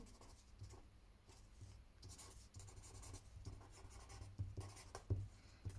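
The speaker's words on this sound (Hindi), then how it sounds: "प्रीमीटर का फार्मूला मैं यहाँ पे लिख लेती हूँ" Pen or marker scratching steadily across a surface while writing out a perimeter formula in a 7th-grade math lesson: close, dry strokes and small taps in an irregular rhythm, with no talk over them.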